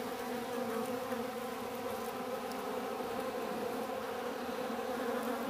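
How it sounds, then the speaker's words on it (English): A single bee buzzes in a close, loud, steady drone that holds without a break for several seconds, alone with no talking. "that bee really knew how close it came to being dessert"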